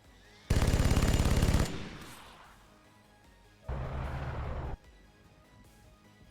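Soldiers fire in XCOM Long War as two loud, dense bursts of rapid automatic gunfire, the first about a second long and followed by a fading echo, the second shorter after a quiet gap, with no talking.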